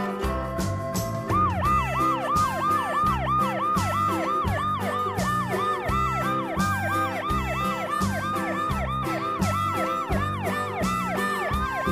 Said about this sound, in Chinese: 警车。